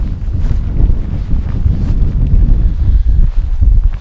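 Strong wind buffets a low-pitched tent and the microphone on an exposed tor during a wild camp, a loud, continuous rumbling roar with gusty swells and no speech.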